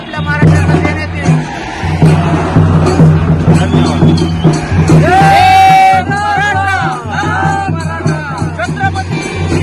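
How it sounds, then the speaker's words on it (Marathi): Maratha crowd celebrating on a highway in Karjat taluka, a loud mix of cheering voices and babble over rhythmic drumming, with shrill whistles or horns rising near the end. "आपण सर्वजण पाहत आहोत की महाराष्ट्रावर जल्लोष चाललेला आहे"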